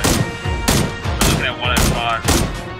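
Rapid, loud bursts of gunfire from the battle royale game PUBG repeat roughly every half second, close and punchy, each with a short echoing tail, with faint voices underneath.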